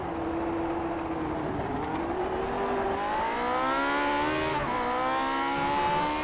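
Race cars in iRacing Grand Prix Legends at Circuit Zolder, a steady engine drone that climbs in pitch under acceleration, dips briefly, then rises again, loud and continuous, with a faint tyre squeal.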